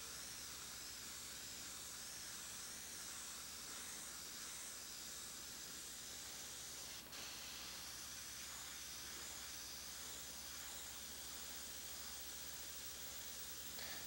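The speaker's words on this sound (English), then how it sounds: "Notice how I'm spraying it out of focus" Airbrush spraying paint onto canvas in a steady, continuous hiss with no pauses, close and even throughout.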